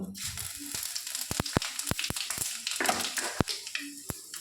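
Dry red chillies, bay leaves and panch phoron hit hot oil with a loud, close crackling sizzle, broken by sharp popping bursts scattered through the whole stretch.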